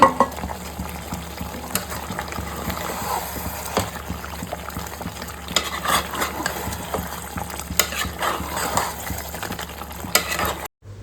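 Mutton and potatoes being stir-fried in a pan, a steady wet sizzle with occasional spatula scrapes and knocks, close and continuous throughout.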